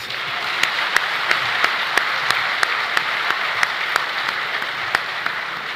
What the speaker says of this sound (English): I think our chairman deserves another round of applause.